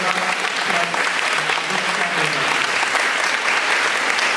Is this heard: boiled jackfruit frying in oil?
no